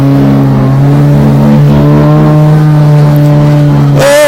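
A loud, close ice race car engine holds a steady high drone through a heat race on an icy cushion track, with a sudden higher-pitched rev surge right at the end.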